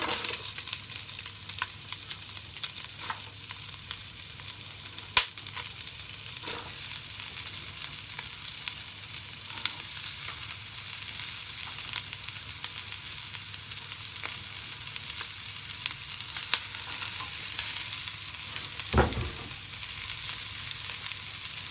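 Vegetables sizzle steadily in a pot as the base for homemade chicken stock, a soft continuous frying hiss with a few faint clicks and one brief louder clatter near the end, no voices.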